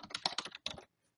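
Computer keyboard typing: a brief, rapid flurry of close, crisp keystrokes lasting under a second, then silence, with no voices.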